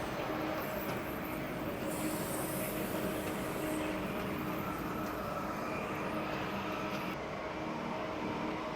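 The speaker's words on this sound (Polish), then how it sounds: "tramwaje mają tutaj jedną szynę tylko i jak się przyjrzeć, to mają po prostu koła z oponami" A rubber-tyred single-rail tram passes on a Padua street, a steady broadband rolling rumble with a faint whine that lingers at constant loudness throughout, blended with distant city traffic.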